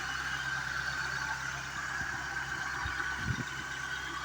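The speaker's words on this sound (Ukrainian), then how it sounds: "Ось така робота движка на газу" Opel Corsa (Kadett) engine idling on LPG with a leaking valve cover gasket, a steady close mid-pitched hum with faint knocks and thumps near the end, no talking.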